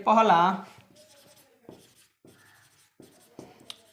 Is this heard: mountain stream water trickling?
no